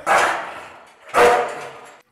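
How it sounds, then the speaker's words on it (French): Two loud, close barks from a Rottweiler attack-trained guard dog in a Russian prison colony, each a sharp burst trailing off, separated by about a second of quiet. "Contrôle des cellules et aussi les aboiements des chiens."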